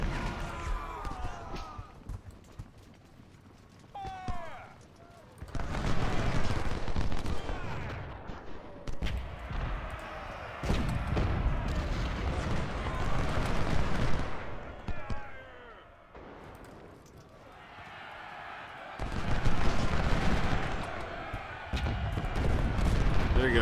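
Fusillades of musket fire and booming artillery ring out in a Civil War video game battle at Iuka, coming in several heavy, sustained bursts between quieter stretches, with a voice talking in the gaps.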